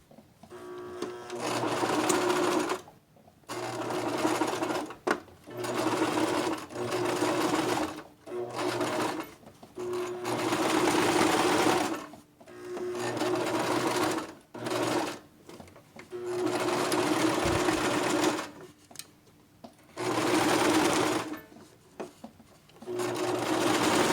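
A sewing machine stitches fabric for a face mask in a series of loud, steady rattling bursts, each a few seconds long, separated by short pauses.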